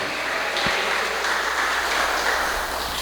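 Church congregation clapping in praise during a Spanish-language worship service, a dense continuous wash of applause filling the room at fairly loud level for a few seconds, with no speech over it.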